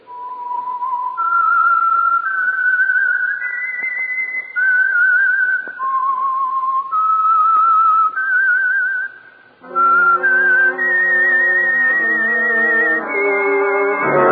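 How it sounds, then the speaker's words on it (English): A solo whistled melody sounds clearly and prominently, with sustained pitched notes rising and falling and held long phrases, the closing passage joined by a fuller tonal chord of the signature theme for The Whistler radio program. "That whistle is your signal for the Signal Oil Program"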